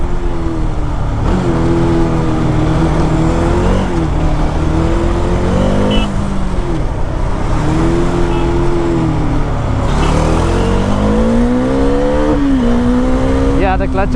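An onboard Bajaj Dominar 400 motorcycle with a slipping clutch runs at full throttle, its engine note climbing and dropping through repeated gear changes, loud and continuous under heavy wind roar.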